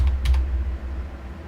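A short burst of a few quick key taps on a computer keyboard during a digital drawing session, followed by a low steady hum and no talking.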